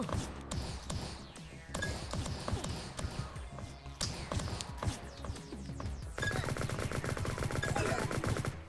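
Rapid gunfire in the open-source Godot 4 online shooter Liblast: dense bursts of automatic shots and sharp single cracks, loud and close, running continuously with a heavier sustained volley toward the end.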